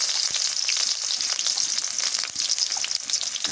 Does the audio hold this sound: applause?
no